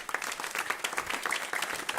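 A faint audience breaks into steady, dense applause for Congresswoman Shelley Pingree at a climate action panel on food waste, the clapping heard from some distance.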